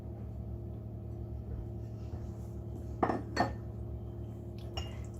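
Dry ingredients, including 270 g of flour, go into a deep mixing bowl against a low background hum, with two quick bright clinks of bowl and utensil close together, then one more light clink a moment later.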